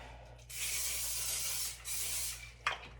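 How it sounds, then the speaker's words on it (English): A can of cooking spray sprays in two bursts, a long hiss followed by a shorter one after a brief pause, close up. "So use some cooking spray."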